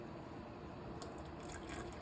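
Coffee from a moka pot pours into a small cup as a continuous soft trickling, splashing stream, close and steady throughout with a few brighter drips.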